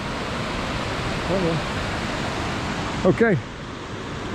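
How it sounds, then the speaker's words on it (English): A rapid river along a Highland hiking trail rushes as a constant broadband roar, steady and loud throughout, while a person speaks briefly over it. "Is the rapid river that creates so much electricity in this area."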